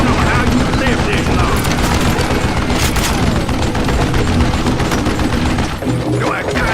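Gunfire rattles almost nonstop in the western shooter Call of Juarez: Gunslinger, with loud, dense volleys of shots piling up over a constant roar of battle.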